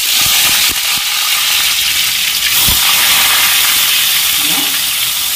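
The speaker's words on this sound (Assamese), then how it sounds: "আলুখিনি যে সিজাই লৈছিলোঁ এতিয়া ফ্ৰাই কৰিছোঁ" Boiled potatoes frying in a pan of oil for an Assamese magur fish curry, a steady close hiss and sizzle running throughout with a few soft clinks of stirring.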